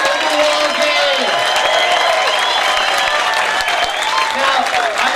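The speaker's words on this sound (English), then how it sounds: "a big round of applause for our Hole in the Wall game" A crowd at the 2011 Jack's Surfing Walk of Fame ceremony applauds and cheers for a Hole in the Wall team, dense sustained clapping with scattered whoops and voices throughout, loud and close.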